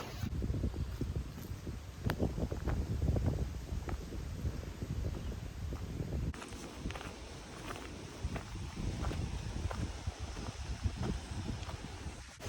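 Gusty wind rumbling against the microphone while footsteps crunch along steadily, the blustery noise persisting throughout.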